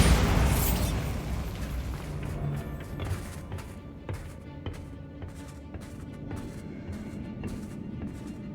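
Bombarda blasting spell in Hogwarts Legacy: a loud opening boom that rolls into a decaying rumble, followed by scattered crackling debris pops and small bursts over several seconds.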